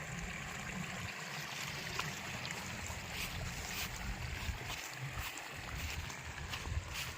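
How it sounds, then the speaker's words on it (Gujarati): Water falling from above and flowing along a winding stream through green, grassy countryside, a steady broadband rushing and splashing wash that stays constant throughout, moderately close, with no speech. "પાણી અહીં ઉપરથી પડે જો અવાજ પણ આવે મસ્ત મજાનો"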